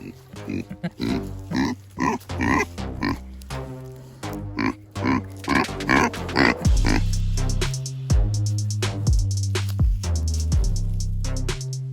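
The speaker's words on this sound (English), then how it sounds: "a couple pigs on this side" Pigs on a small homestead grunt and oink repeatedly at close range, in an irregular run of short, loud snorts that grow deeper and more continuous, with a person talking briefly.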